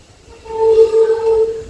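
An Indian express train, the Yesvantpur Yog Nagari bound for Rishikesh, sounds a steady tonal horn at a junction, rising after a quiet start and holding for over a second with faint rail rumble beneath.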